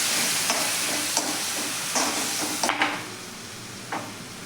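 Tomato purée being stirred into sautéed onions in a pan for a spiced eggplant dish: steady sizzling hiss with several scraping stirs of a spoon against the pan, close and moderately loud.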